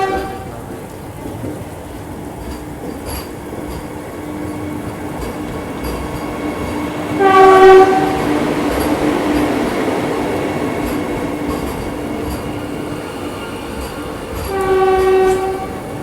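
The CSMT Hospet Superfast Express (11139) rumbles steadily on the rails near Solapur, with two loud horn blasts, one around the middle and one near the end. No one speaks.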